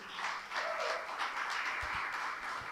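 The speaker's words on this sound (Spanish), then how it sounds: "Dele un fuerte aplauso al Señor" A church congregation claps together in a sustained round of applause that sounds somewhat distant, with no voices rising above the clapping.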